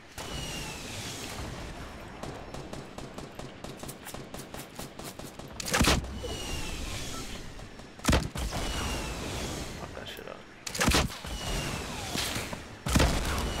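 Rapid automatic gunfire bursts and several loud rocket blasts from a Fortnite Battle Royale firefight, the shots rattling in quick runs while heavier explosions punch through at intervals.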